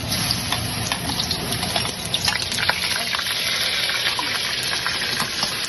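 Garlic sautés in a pan for Chinese cooking, a loud, close, continuous hiss with fine crackles that stays steady throughout.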